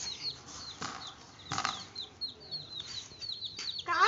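A chicken flaps its wings in a cage holding four colourful hens, with bursts of wing beats and scattered clucks and chirps, fairly close and without talk.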